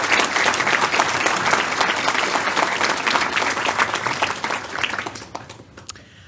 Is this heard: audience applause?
yes